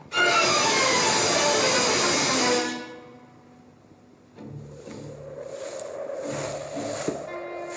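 A loud rushing train roars past with metallic squealing, then fades, leaving a quieter rumbling hum with faint tonal horn-like notes.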